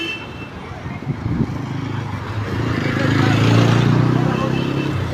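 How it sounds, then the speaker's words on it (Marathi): Heavy road traffic near a crowded temple area, with a steady rumble of engines building louder midway and a horn toot early on, voices murmuring throughout. "बा एवढे सारे गाड्या लागले"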